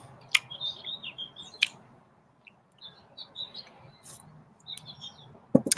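A pet bird chirps indoors, giving a few quick high twittering calls spread across several seconds with pauses in between, faint against a quiet room with occasional sharp clicks.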